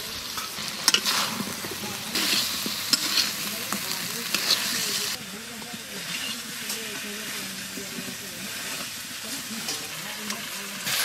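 Potatoes go into a hot pan of oil already seasoned with cumin, chilli and turmeric powder, stirred steadily as they fry with a loud, continuous close sizzle and scraping strokes.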